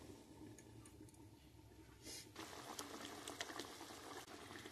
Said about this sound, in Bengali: দেখুন বন্ধুরা কিভাবে ফুটছে